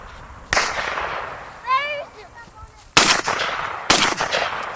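Outdoors on a dove hunt field, three loud shotgun blasts ring out with echoing tails, the first alone and the last two about a second apart, while a voice calls out briefly between them.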